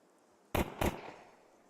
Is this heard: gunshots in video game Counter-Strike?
yes